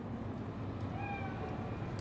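A cat in Cyberpunk 2077 gives a single short meow, faint and rising, under a steady low ambient hum of the game's city soundscape.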